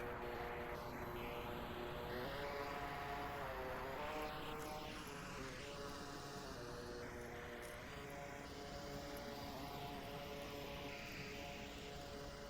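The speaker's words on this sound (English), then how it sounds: "I hear a drone already coming out by Marsoc." A recon drone in the video game Onward flies close by with a steady, buzzing propeller drone whose pitch rises and falls as it passes. The hum is continuous and fairly loud throughout.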